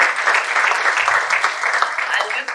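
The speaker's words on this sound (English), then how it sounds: "I think you should give her a little round of applause" An audience at a panel discussion on India's Olympic aspirations applauds, a dense, steady clapping that fills the whole stretch at close, loud level.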